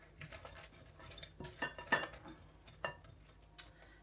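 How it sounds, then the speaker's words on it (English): Chicken wings are tossed in a very hot sauce, with scattered clinks and scrapes of a utensil against a pan or bowl, irregular and fairly quiet, with no talk. "I'm going to go ahead and just toss this in this really hot sauce"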